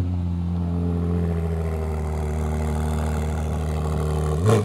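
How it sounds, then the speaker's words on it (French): Ferrari 296 GTB hybrid sports car with a V6 engine idling nearby, a steady low rumbling drone with a faint clatter, holding even throughout before a brief louder burst at the end. "il y a quand même un V6 qui chante quand même vachement bien"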